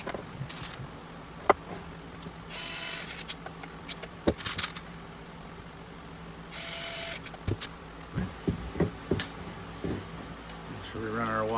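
A screwdriver drives M3 x 16 screws into a 1/14 scale stationary trommel screener model, with two longer whirring bursts of the driver and scattered clicks and taps of parts being handled, close and fairly quiet.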